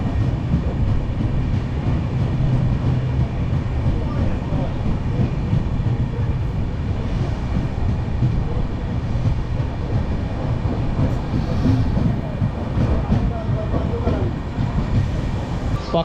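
The Kriya Yoga Express 18615 passenger train runs steadily, a continuous low rumble with faint clattering heard from inside the carriage, moderately loud and unbroken throughout.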